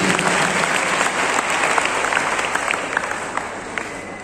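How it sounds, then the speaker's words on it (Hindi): A crowd at a World Hindi Day poetry recital breaks into loud, sustained applause, a continuous close wash of many hands clapping with scattered sharper claps and a faint murmur of voices beneath. "तो सुनना चाहेंगे तो तालियां बजाएं"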